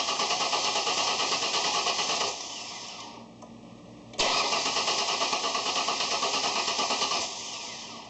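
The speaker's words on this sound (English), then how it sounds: "I'm going to go in, I'm going to see if it'll start." A Ford Explorer engine cranks repeatedly with a rapid rhythmic whirring, pauses briefly, then cranks again without catching, close and loud.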